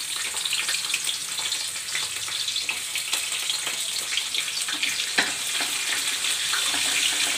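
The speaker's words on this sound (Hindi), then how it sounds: "देखिए मेरा प्याज भुना चुका है" Onions frying in a pan for gravy appe, a steady, continuous sizzle and crackle held at an even level throughout, with no talking.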